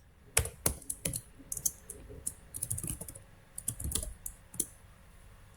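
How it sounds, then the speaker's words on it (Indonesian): Someone types a port-scanning command into a computer during a network security lab. Close, crisp keyboard clicks come in irregular quick bursts with short pauses between them, and no voice is heard. "Jadi kita ngetik aja."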